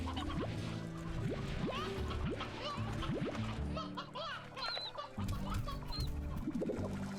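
Chickens cluck over and over in the video game Slime Rancher, a busy, close flock sound that runs steadily under a layer of game music.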